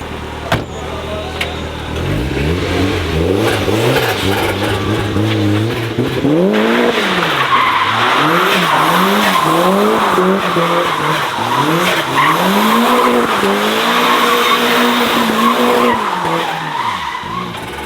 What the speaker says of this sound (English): The turbo flutter is insane.